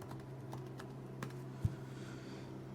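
Soft, sparse keystrokes on a computer keyboard while entering food into a nutrition app, a few quiet clicks with one sharper tap, close and faint, no talk.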